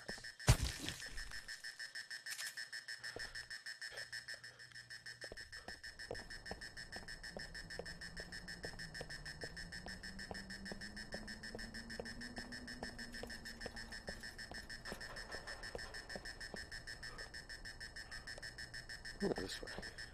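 A steady electronic alarm tone rings continuously in the VR game Contagion VR: Outbreak, with faint rapid beeping and a low wavering hum; no voices are heard.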